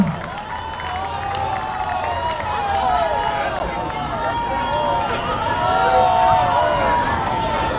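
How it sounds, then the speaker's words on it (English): A peace march crowd in Hawaii applauds and cheers at a steady, dense level throughout, with voices mixed into the broad wash of clapping. "round of applause, guys"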